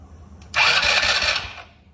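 A Polaris RZR 170 engine with a freshly rebuilt carburetor catches and fires up, a sudden burst of rough running that holds for about a second before fading, close and fairly loud against a quiet background.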